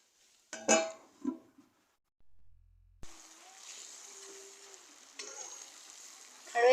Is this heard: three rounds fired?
no